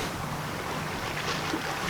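Strong wind by the Niagara River buffets the microphone with a steady, rushing roar for the whole stretch, with no other clear sound above it.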